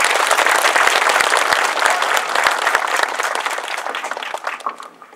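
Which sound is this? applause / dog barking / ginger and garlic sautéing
applause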